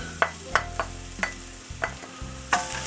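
Garlic stirred into softened onions in a pan for stuffed cabbage rolls, with a handful of sharp utensil scrapes and taps spaced irregularly over a low, steady cooking hum, close and moderately loud.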